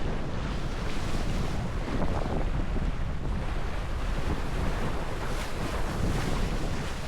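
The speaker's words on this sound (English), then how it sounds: "once you're about 200 meters out, the wind becomes more free" Strong wind rushes steadily past the microphone offshore on Grevelingen Lake in the Netherlands, a loud continuous roar mixed with waves and water noise, no voices.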